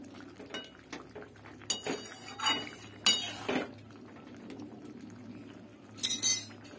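A utensil stirs vegetable sukto with bitter gourd in a pan. It gives a few intermittent scrapes and metallic clinks, fairly quiet, with short bursts spaced a second or two apart over a soft background.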